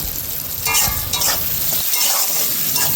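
Greens with tomato and a pinch of salt being stirred in a hot pan, a steady sizzle with scraping and occasional light clinks of the utensil, close and fairly loud, with no voices.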